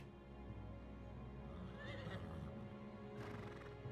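A horse whinnies once in Final Fantasy XVI, a rising shrill neigh, over a steady droning background with faint hoof clops.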